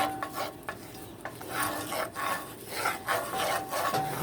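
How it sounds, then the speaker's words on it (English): A spoon scrapes and rubs through browning ingredients in a pan while cooking honey glazed salmon, the steady stirring strokes repeating over a soft sizzle, close and without voices. "You do want to stir it a lot so it doesn't burn."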